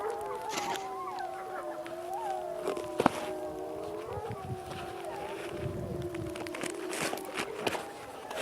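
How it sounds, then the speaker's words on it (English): Several wild wolves in Minnesota howl back from a distance, their overlapping wavering tones drifting on for the whole stretch over wind and faint rustling, with one brief sharp knock near the middle. "Hear all those wolves?"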